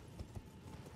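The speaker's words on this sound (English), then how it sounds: "The horse is working so far." Horse hooves galloping in Elden Ring, a couple of soft dull thuds over a steady rushing background, faint and brief.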